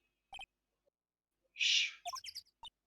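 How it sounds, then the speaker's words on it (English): Bird chirps from the Ace Attorney video game, a few short bright calls in quick succession, fairly clear against otherwise quiet game audio with brief blips around them. "we can hear the birds as well"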